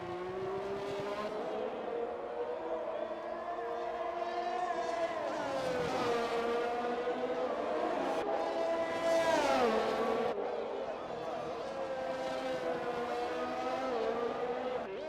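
A McLaren F1 race car in a racing video game at Monaco, its high-pitched engine whining steadily and rising through the gears, rpm sweeping up and down with shifts along the straight, fairly loud and alone.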